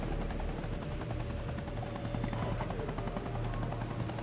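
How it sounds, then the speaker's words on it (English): Coast Guard rescue helicopter hovering over a fishing vessel during Hurricane Katrina, a loud, steady rotor thrum with rhythmic blade chop and a turbine whine holding constant throughout. "Mark Gutek, captain of the Mary Lynn, finally reaches the safety of the helicopter cabin"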